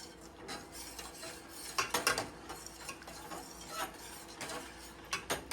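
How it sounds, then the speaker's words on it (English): A hot chocolate mixture is stirred in a pot, with a quiet, close run of scraping and clinking spoon strokes against the pot in an uneven rhythm. "And just give it a stir."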